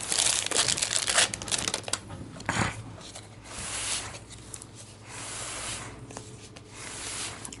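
Wrapped card packs for the board game Terraforming Mars being torn open, with sustained crinkling and crumpling of plastic wrap in bursts, loud and close, easing to softer rustling.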